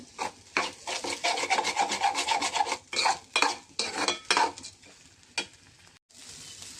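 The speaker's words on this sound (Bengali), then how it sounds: "একটু মুগ ডাল দিয়েছি, যেটা একটু আগে ভাজা দিয়ে নিলে ভালো হতো। ওইভাবে একটু কষানোর মধ্যে ভেজে নিচ্ছি।" Rice and mung dal are stir-fried in a pan, a spatula scraping and rasping rhythmically through the dry grains in quick close strokes, easing off toward the end.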